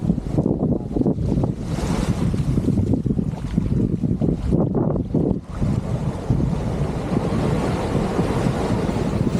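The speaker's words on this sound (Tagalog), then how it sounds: "Napakasarap pakinggan ng mga pagaspas ng alon sa dalampasigan." Ocean waves wash onto a beach in Maui, Hawaii, a steady close rush of surf mixed with strong wind buffeting the microphone, continuous throughout with no talk.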